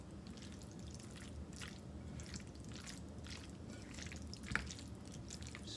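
Feta pasta being stirred together in a bowl makes wet, squishy, dripping sounds that run steadily at moderate level, with one sharper click partway through.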